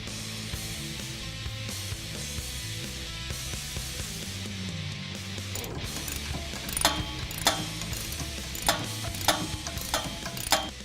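A Ford 8.8 ring and pinion gear set in a Mustang rear axle is turned by hand, giving repeated mechanical clicking and ratcheting of meshing gear teeth, with sharper clacks toward the end.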